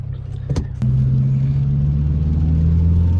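A Mazdaspeed 3 with a 2.5 block engine on a Stage 2 tune settles into a steady, deep idle rumble after a few brief thumps, loud and close, with no one speaking.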